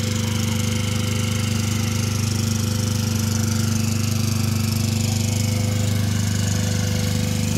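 A portable generator runs steadily and loud with a constant, rough mechanical thrum, close by, in a rural yard after storm damage, with no speech.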